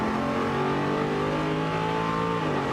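A Dodge Challenger Scat Pack and a Hellcat launch together at a drag strip, their V8 engines roaring loud and continuous with rising, layered tones as they pull away.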